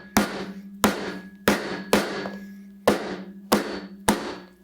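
A hammer strikes the palm of a J-Tan leather TT2 baseball glove seven times in an even rhythm, each blow a sharp, close thwack with a brief ringing decay.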